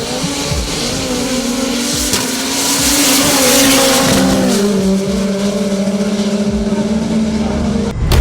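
A front-wheel drive Toyota drag car runs at a Jamaican drag strip, its engine droning loudly and steadily with rising and shifting pitch, a continuous near roar of racing over the whole stretch.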